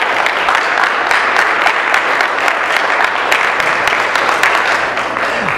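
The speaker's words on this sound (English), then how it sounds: "let's give a round of applause again" A church congregation applauding during a Presbyterian worship service, a steady dense wash of many hands clapping at close range, sustained for several seconds without a break.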